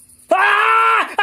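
A person lets out a single loud, sustained scream lasting about a second, close and piercing, then starts a second cry as it cuts off.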